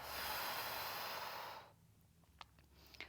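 Slow, steady breaths during a Pilates core exercise: a long, soft airy exhale fades after about a second and a half, followed by quiet stillness and a couple of faint short sniffs near the end.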